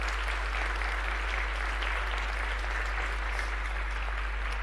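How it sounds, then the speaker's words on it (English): Conference audience at the 2018 World Export Development Forum in Zambia applauding the hosts, sustained even clapping from a large hall over a low steady hum. "So please, a big round of applause."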